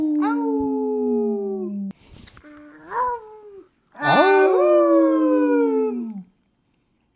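A young dog howls like a wolf pup in a home kitchen, long rising and falling wails up close and loud, with a brief pause and a person's short exclamation in between.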